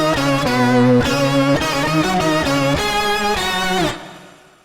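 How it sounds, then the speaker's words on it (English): An electric guitar through a Line 6 Helix picks a rhythmic chordal pattern while an expression pedal sweeps a telephone effect in, the tone shifting from thin to fuller, loud and alone, then ringing off into a fading tail. "that's what it sounds like when you sweep that telephone effect in"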